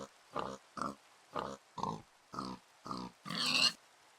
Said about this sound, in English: After accidentally suffocating a pig